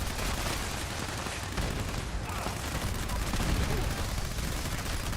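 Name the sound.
gunfire in the video game Fallout 76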